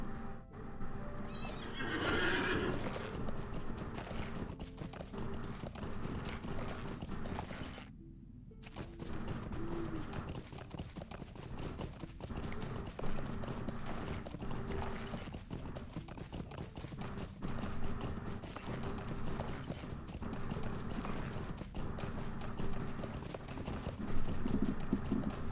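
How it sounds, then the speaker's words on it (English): A horse being ridden in the online game Lord of the Rings Online: steady clip-clop hoofbeats with whinnying near the start and a short break partway through, loud and continuous throughout. "Let's get back on the horse."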